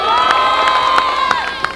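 A crowd applauding and cheering at a 1988 summer show in Cannes, with dense clapping, shouts and whistles over sustained music, loud and close.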